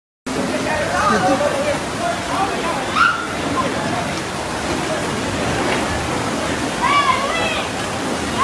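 A flooded river rushing through Matagalpa, Nicaragua, a dense continuous roar of water filling the scene, with voices calling out and talking over it at times.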